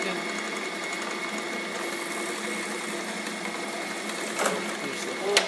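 Drill press running while drilling a hole in metal, giving a continuous close mechanical whine and rattle with a brief scrape near the end.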